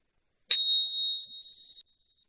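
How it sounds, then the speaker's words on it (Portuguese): A small bell struck once during a children's storytelling session: a single bright, high ding that rings clearly and fades over about a second and a half into silence. "E eu vou bater o sininho para ver se ela aparece."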